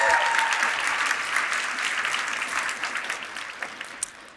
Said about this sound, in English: can we give Russell and his team a big round of applause?